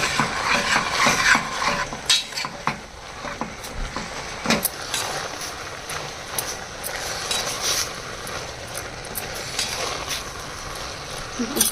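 Leafy greens curry with coconut and salt being stirred in a pan: steady clinks and scrapes of a spoon against metal, close and moderately loud, with a faint sizzle underneath and no talking.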